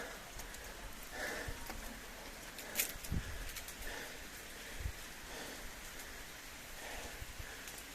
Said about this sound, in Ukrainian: Іде невеличкий дощик.